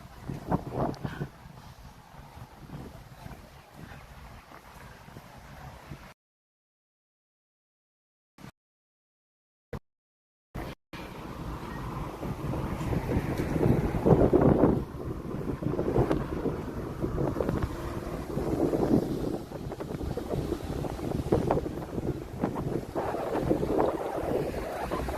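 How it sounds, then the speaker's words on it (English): Outdoor wind in the coastal city of Shantou, Guangdong, buffeting the microphone as a steady, loud rush with gusts, broken by a few seconds of silence partway through. "This wind is very comfortable. There's a wind."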